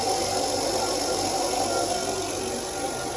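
A 2006 Kia Optima 2.7L engine idles steadily after a water pump replacement, a constant close mechanical hum with a faint rhythmic tick and no voices.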